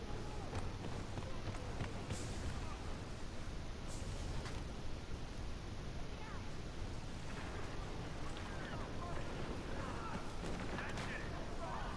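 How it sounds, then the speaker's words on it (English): Scattered gunshots and heavier booming blasts in the video game Star Wars Battlefront II crack out over a constant, noisy rumble of battle, some sharp and close, others muffled and far off. "Our gunshots come from like over there."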